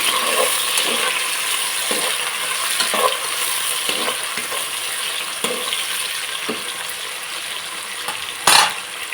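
Tomatoes frying in hot oil in a pan for vegetable biryani, giving a steady loud sizzle with occasional soft scraping stirs and one brief louder clatter near the end.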